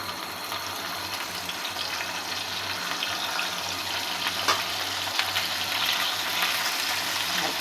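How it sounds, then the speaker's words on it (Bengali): Fish pieces frying in hot oil, a steady dense hiss and crackle throughout, close and fairly loud, with a few brief pops standing out. "এখন আমি মাছগুলো আস্তে আস্তে করে দিয়ে দেব, সাবধানে যদি ছিটে না আসে।"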